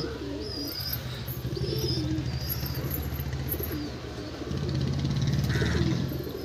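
Pigeons in a loft cooing in low, continuous rolling calls, with scattered chirps and rustling from birds nearby.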